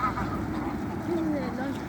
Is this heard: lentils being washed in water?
no